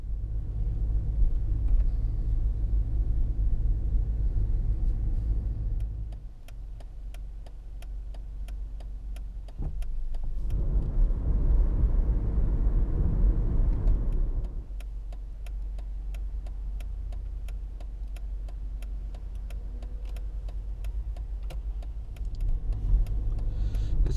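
A car driving, heard from inside the cabin: a continuous low rumble of engine and road with faint rhythmic ticking, the noise swelling louder for a few seconds in the middle before settling back, with no talking.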